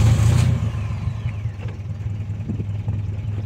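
A Streetmobile engine revs close by, a loud throaty burst at the start settling into a pulsing mid-pitched rumble with uneven throttle blips.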